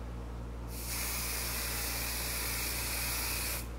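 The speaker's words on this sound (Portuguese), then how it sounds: "Passo o jato de spray." Hair spray hisses onto long hair being styled into curls with a flat iron, one continuous close spray of about three seconds without talk.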